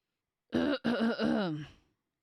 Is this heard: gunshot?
no